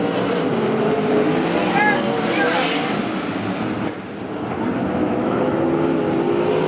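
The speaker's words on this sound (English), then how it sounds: "they have just annihilated turn 1 with these sprint cars" Sprint cars racing at Central Arizona Speedway, a steady loud roar of engines circling the track that dips briefly midway, with a race announcer talking over it throughout.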